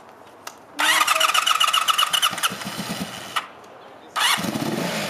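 A scooter engine cranks and catches, rising into a loud, steady idle, then cuts out briefly before firing up again close by.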